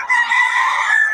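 A rooster belts out a single loud, close crow, a sustained bright call holding steady for about a second.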